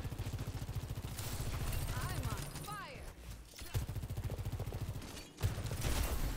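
Sojourn's rapid gunfire in Overwatch 2, close steady rattling bursts of shots that pause briefly around fleeting whooshing effects and then resume, with a player talking over it.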